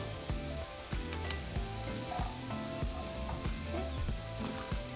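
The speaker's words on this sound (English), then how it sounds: "now we're going to add our garlic cloves. And we're going to roast them as well." Garlic cloves roasting alongside tomatoes for a red salsa with chicharrón, giving a steady close sizzle broken by regular soft knocks and stirring bumps throughout, with no talking.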